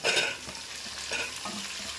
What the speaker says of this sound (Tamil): வெங்காயம் தக்காளி வெங்காயம் பூண்டு பட்டை மிளகா கருவேப்பிலை எல்லாம் வணங்கிடுச்சுங்க